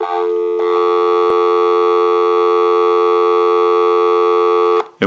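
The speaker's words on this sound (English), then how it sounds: "Go ahead and give you some dial tone." A lineman's buttset plugged into a telephone line produces a steady, loud dial tone that holds unbroken for several seconds and then cuts off abruptly.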